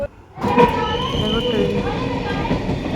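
Two trains pass one after another at a railway level crossing where traffic waits in summer heat. A loud, close rumble of wheels and carriages starts abruptly and rolls on steadily, with a faint metallic ring throughout.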